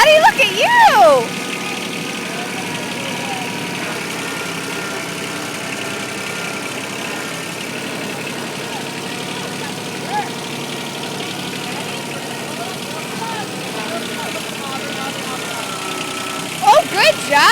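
A backhoe's diesel engine runs steadily at a low, even idle-like chug throughout, with excited voices briefly heard near the start and end.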